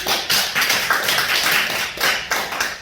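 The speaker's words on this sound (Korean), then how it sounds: "박수 한번 쳐봐라 이렇게." A group of people clap hands in a classroom-like setting, with a series of loud, uneven bursts of clapping and short gaps between them.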